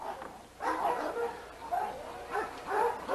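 A young female pit bull gives several short barks and yips in an outdoor yard, moderately close, in quick bursts with brief pauses between them.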